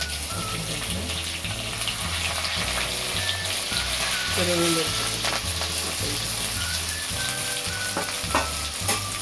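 Cumin seeds and curry leaves sizzle steadily in hot oil for vegetable upma, a loud continuous crackling hiss with a rhythmic low hum underneath and occasional faint clinks.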